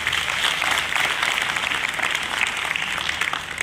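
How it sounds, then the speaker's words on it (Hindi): A hall audience applauds in welcome for a government secretary at a ceremony handing appointment letters to newly appointed child development project officers, steady dense clapping filling the room throughout. "हमारे सचिव महोदय को एक विशेष आप लोग स्वागत करेंगे तालियों से"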